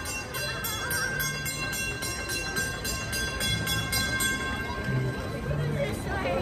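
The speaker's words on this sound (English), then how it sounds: "Watch out, it's coming. The train is coming." A train rumbles past with a steady rolling clatter and a faint rhythmic clicking from the wheels, while a voice talks over it.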